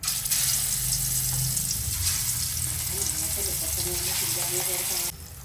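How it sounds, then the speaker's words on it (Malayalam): Steady broadband sizzle of sardines frying in hot oil, continuous and fairly loud throughout, with faint tonal background sounds. "അപ്പോൾ എണ്ണ തിളച്ചിട്ടുണ്ട്. അപ്പോൾ ഇതിനകത്തോട്ട് ഫ്രൈ ചെയ്യാനുള്ള ചാള ഇട്ട് കൊടുക്കാം."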